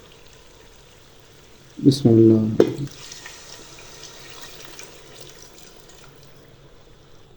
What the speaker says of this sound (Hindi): अब इसमें 1 गिलास पानी का शामिल करेंगे।